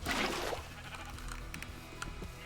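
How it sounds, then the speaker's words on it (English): A Minecraft sheep lets out a short, loud bleat at the start, followed by quieter game sounds and faint clicks. "I mean sheep and cows"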